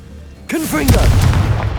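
Confringo blasting spell from Hogwarts Legacy: after a quiet moment, a sudden loud explosive burst with whooshing magical tones, then a sustained low rumbling blast close by.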